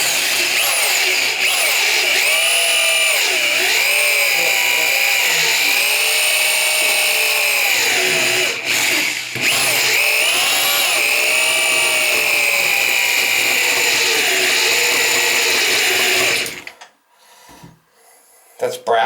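A drill boring into a brass Moen shower valve, a loud whining motor that rises and falls in pitch as it bites, briefly pausing midway, then cutting off before the end.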